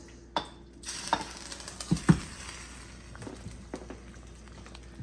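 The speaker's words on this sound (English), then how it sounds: "You just need a few stirs and it'll be done" Shrimp being stirred in a sizzling pan of soupy sauce over low heat, a soft steady sizzle with a few clicking scrapes and knocks of the utensil, louder near the start, no talking.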